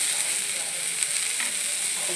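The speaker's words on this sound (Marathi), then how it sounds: "गाजर थोडं त्याला फ्राय करून घ्यायचं, शिजवायचं नाही" Carrot and cabbage fry in a pan with a steady, close bright sizzle and faint clicking stirs throughout, no voices.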